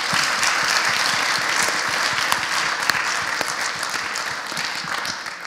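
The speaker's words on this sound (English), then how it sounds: "let's give our speaker one more round of applause" Sustained applause from an audience closing a public talk on clean energy: dense, steady clapping that fills the room at a fairly loud level, with no voices on top.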